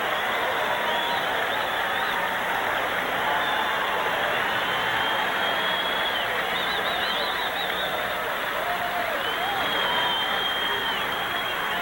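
A large tennis crowd at the 1988 Lipton semifinal in Miami applauds and cheers for Jimmy Connors in a dense, sustained roar of clapping and whistles, steady and loud throughout.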